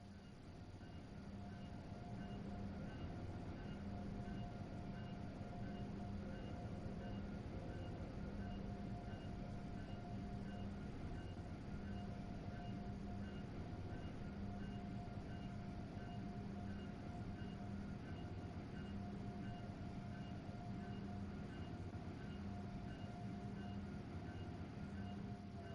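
An Acela high-speed passenger train in a video game rumbles along at a steady pace, with a constant electric whine and hum layered over the low rolling drone.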